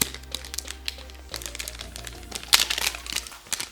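Crinkling and rustling of plastic packaging being torn open around an ADALM2000 portable oscilloscope and signal generator unit, close and fairly quiet, with irregular crackles and a sharper tear midway.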